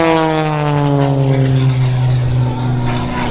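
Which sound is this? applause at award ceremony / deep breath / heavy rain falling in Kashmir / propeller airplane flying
propeller airplane flying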